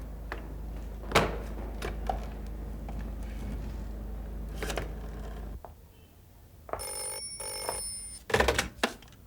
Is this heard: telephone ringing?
yes